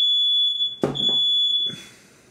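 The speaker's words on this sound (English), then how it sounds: "My smoke alarm just went off randomly." A steady high-pitched electronic tone from a smoke alarm sounds continuously, interrupted briefly by a few dull knocks and rustles, then fades out at the end.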